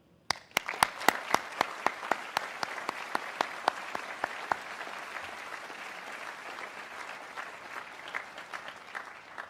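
An audience at a Caltech commencement breaks into steady, full applause that rises quickly and holds as a dense wash of clapping for several seconds, with the sharper individual claps fading out partway through.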